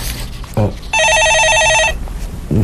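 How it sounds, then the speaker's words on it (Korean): Telephone ringing once with a loud, steady electronic trill lasting about a second, close by, with a voice speaking just before and after. "전화가 바로 오네."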